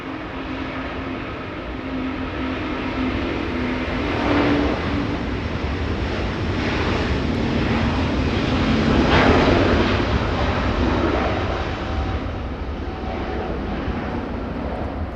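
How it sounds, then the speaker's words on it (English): A jet airliner taking off at Los Angeles International Airport, a broad roaring engine rumble heard from a distance that swells and fades over several seconds, mixed with wind noise buffeting the microphone. "Lifting off as we see, as we take a look past the trees."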